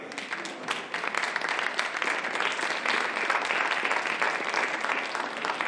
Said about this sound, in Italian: Un applauso a questi atleti